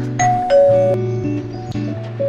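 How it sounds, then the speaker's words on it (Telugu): Calling doorbells in a German student dormitory ring out a sequence of clear electronic chime tones, several overlapping notes in a short, bright melody, heard alone and close. "సో ఇవి వచ్చేసి కాలింగ్ బెల్స్ అనమాట."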